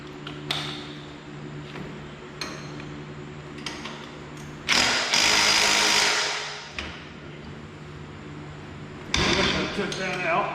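Power tool backing a bolt out during repair work, a loud broadband burst of a few seconds in the middle and another near the end, amid workshop clatter and speech.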